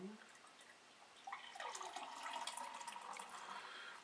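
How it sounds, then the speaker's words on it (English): Dark beer pours into a glass, a faint, close, steady liquid gush with light fizzing that builds after a short start and continues to the end. "so let's pour the beer into the glass."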